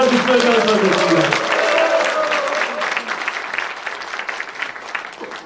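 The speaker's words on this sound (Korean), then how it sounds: "여러분 시장님을 큰 박수와 함성으로 맞아주시면 감사하겠습니다." A crowd at a civic town-hall gathering applauds and cheers loudly to welcome the city mayor. Dense clapping runs steadily with voices mixed in, then thins slightly toward the end.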